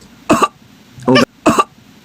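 Three short, harsh coughs, close by, spaced with brief pauses, the second a bit longer and rougher.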